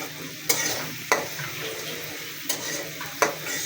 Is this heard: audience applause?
no